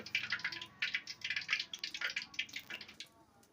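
Poori frying in hot oil gives off a close, busy crackle of small pops and sizzles that thins out toward the end, with no talking.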